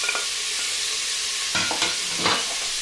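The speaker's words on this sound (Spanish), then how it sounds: "en el mismo aceite que hemos hecho el pollo, vamos a echar la cebolla, el ajo y el pimiento rojo y pimiento verde" Onion, garlic, and red and green peppers fry in oil left over from cooking chicken, a steady broadband sizzle with a few brief stirring scrapes and clatters, close and alone without voices.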